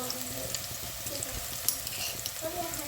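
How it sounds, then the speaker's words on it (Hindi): Onions frying in a pan for chana daal, a soft steady sizzle with faint stirring clicks throughout, quiet and continuous with no talking. "हमने 2 से 3 मिनट प्याज को इसमें फ्राई करना है"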